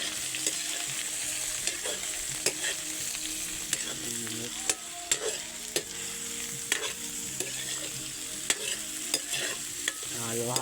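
Vegetables stirred in a hot frying pan: a continuous sizzle with irregular, close knocks and scrapes of the utensil against the metal.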